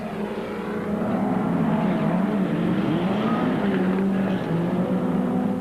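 Toyota Hilux and Ford racing trucks roar past on a race track, engines loud and sustained with rising and falling pitch as they accelerate and shift, with no voices over the din.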